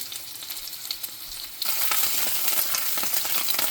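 Sous vide pork and vegetables sear in a hot pan, a moderate sizzle that suddenly jumps to a louder, crackling roar partway through and stays steady.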